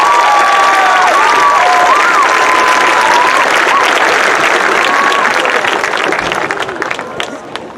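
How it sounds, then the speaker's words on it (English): Loud, sustained applause and cheering from a large crowd at a high school graduation commencement, with shouts and whistles mixed in before it starts to taper off at the end. "Ladies and gentlemen, another round of applause for this round."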